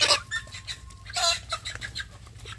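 Young free-range village chickens in a special pen cluck and peep in short, close bursts, several birds overlapping in an irregular chatter with no talking.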